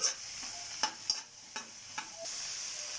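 Sabudana ingredients with curry leaves fry in a pan under a steady high sizzle, punctuated by about five spoon taps and scrapes against the pan, with no voices.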